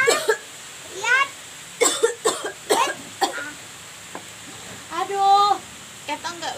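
Several short, harsh coughs come in uneven bursts at close range, mixed with a voice in a pretend doctor play scene.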